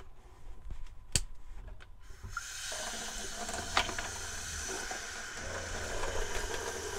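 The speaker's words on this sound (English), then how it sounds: "you can hear the water pump going" An R-Pod RV's water pump runs with a steady, low motorized hum under rushing water, starting after a couple of sharp clicks and holding fairly even to the end.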